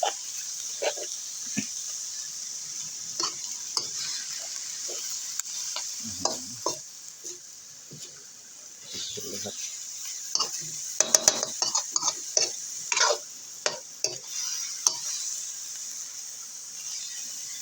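Frog meat stir-fried in a wok with holy basil, a metal spatula scraping and clanking against the pan in irregular strokes over a soft steady sizzle, fairly close.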